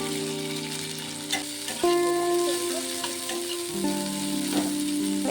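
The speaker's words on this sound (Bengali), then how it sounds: "কালো জিরে আর পেঁয়াজটিকে একটু ভেজে নেব।" Black cumin seeds and chopped onion sizzle in hot oil in a wok, a continuous close crackling fry with occasional stirring scrapes, under steady background music.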